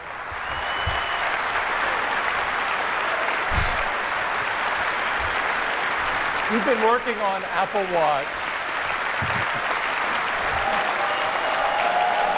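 An audience applauding and cheering at an Apple Watch launch event, sustained and loud throughout, with someone talking over the clapping.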